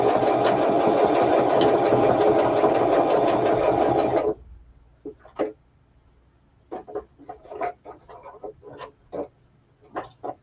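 A sewing machine runs steadily for about four seconds with a loud, even mechanical whir, then stops, leaving sparse clicks and small handling taps.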